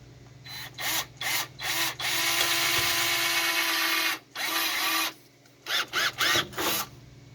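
A power drill runs a small bit into the door jamb of a 1941 Dodge WC truck, whirring in short bursts with one long sustained run in the middle and quick triggers before and after.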